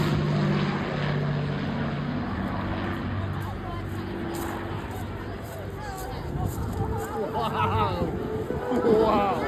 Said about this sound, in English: a massive warm welcome to the Avro Lancaster, most famous and successful Royal Air Force heavy bomber of World War II